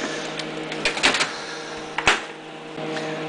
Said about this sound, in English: I don't know why it turns the vacuum on when you unload